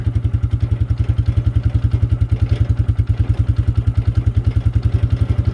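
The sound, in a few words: carbureted ATV engine being pull-started on full choke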